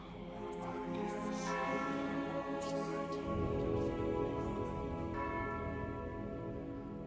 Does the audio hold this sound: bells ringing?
yes